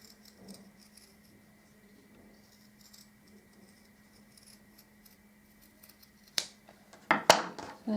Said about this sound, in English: I've got fabric scissors and I'm just going round